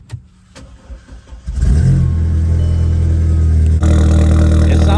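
An Audi 2.0T engine with a custom straight-piped exhaust and a slight exhaust leak starts up after a few faint clicks, then roars into a loud, sustained rev heard up close with no voices.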